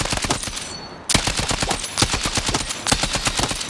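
Loud, close bursts of steady, evenly spaced gunshots from a slow-firing gun with KTS attachments in a shooter video game rattle out alone, with only a brief break in the shots around the one-second mark.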